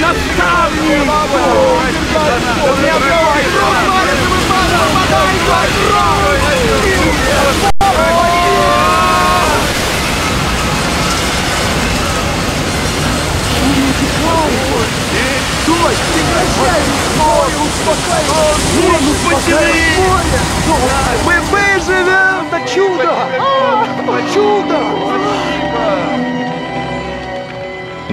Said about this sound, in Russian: Волны захлёстывают нас!